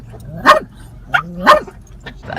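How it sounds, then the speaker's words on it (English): Dogs bark close by, a few sharp barks spaced about a second apart with softer yips between. "Heidi, Jake, stop barking"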